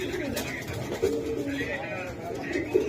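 Lahori pigeons offered for sale coo in low, repeated bursts close by, heard under someone talking steadily over them.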